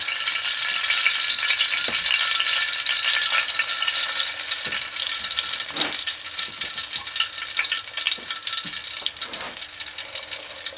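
Country fried steak sizzles and crackles in a hot pan, a loud steady fry with scattered sharper pops and no voices.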